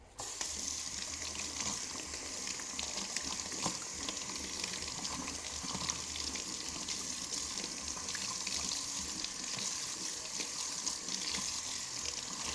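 Scallions rinsed under a running kitchen tap, a steady continuous stream of water splashing into the sink, fairly faint and unbroken throughout with no talking.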